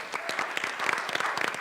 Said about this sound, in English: let's give Debbie a round of applause